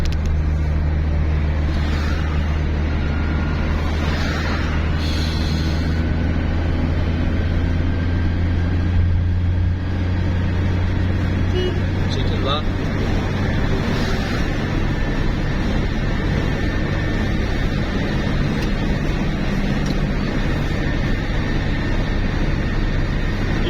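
A 1993 Lada Samara cruises along a highway, its engine droning steadily with low rumble and tire and wind noise, recorded from inside the car, loud and continuous without talk.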